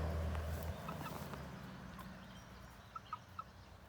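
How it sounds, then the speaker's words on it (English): Young Jersey Giant chickens about 12 to 15 weeks old on a homestead, a few faint short clucks and peeps toward the end over a low hum that fades early, quiet and somewhat distant. "These are the Jersey giants."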